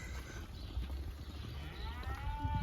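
A cow moos among a herd on a muddy farm, a low drawn-out call over steady outdoor rumble with no talk.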